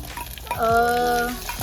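Onions frying in a pan for an Agri-style crab curry, a soft steady sizzle lasting about a second and a half, with a brief tonal ringing in the middle and no speech.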